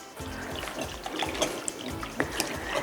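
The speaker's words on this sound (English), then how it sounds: "We're gonna whisk that up." A whisk stirring vanilla pudding mix in a bowl for a strawberry fluff salad, a close, wet swishing and sloshing that runs steadily with small scraping clicks.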